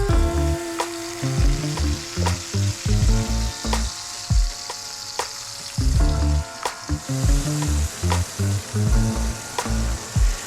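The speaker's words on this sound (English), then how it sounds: "we're just gonna saute this snakehead for just a few minutes" Snakehead fillet sautéing in olive oil in a pan over medium-high heat, a steady loud sizzle broken by repeated clinks and scrapes of a utensil against the pan, with strong tonal music playing throughout.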